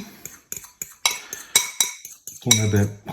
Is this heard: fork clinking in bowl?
yes